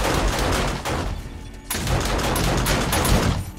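A junk turret gun in 7 Days to Die fires in a loud, dense stream of rapid shots, with a brief gap partway through before the fire resumes.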